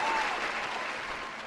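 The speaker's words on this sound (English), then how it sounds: "Let's clap it up" Audience applause at a court-style talk show, a steady wash of clapping hands filling the room, loud and sustained without a break.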